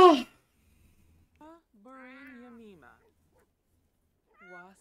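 Cat meowing in The Sims 4 game at a veterinary clinic: a single drawn-out tonal meow with short chirping calls before and after, clear and close, with no talk over it.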